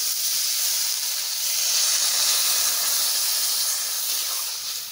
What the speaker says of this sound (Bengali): এবারে জল দিয়ে দিচ্ছি, ভাজা হয়ে গেছে।